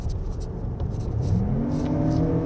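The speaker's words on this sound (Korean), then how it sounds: "근데 뭔가 엔진이 RPM이 올라갈 때 소리가 좀 웅장해진 게 좀 느껴지세요?" A 2024 Lexus RX500h F Sport Performance hybrid engine revving up, a close rising drone climbing steadily in pitch over a couple of seconds, with no talk over it.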